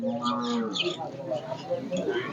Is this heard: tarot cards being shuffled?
no